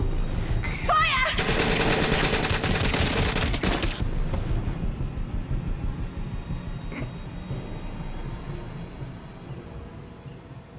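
Machine gun fire in The Complex, a 2020 interactive movie game: a loud, sustained burst of rapid automatic shots that cuts off abruptly, leaving a decaying rumble and scattered distant sounds.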